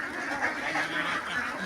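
Ducks on a farm beside a litchi orchard gather while being fed, giving a continuous mass of overlapping quacks and chatter at moderate distance.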